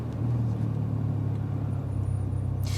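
Alpine A110 on Essex B-roads giving an exhaust pop over a steady, loud engine and road rumble, with a brief crackle near the end.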